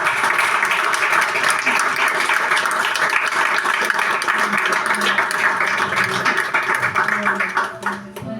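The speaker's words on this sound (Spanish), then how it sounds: "Le damos un aplauso fuerte." Strong applause from a congregation at a Spanish-language revival church service, dense clapping filling the whole stretch loudly and evenly before thinning out at the very end.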